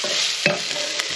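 Onion, garlic and ginger sauté in hot oil in a pan for crab in chilli oyster sauce, giving a loud, steady close sizzle with a brief stirring scrape partway through, no voices.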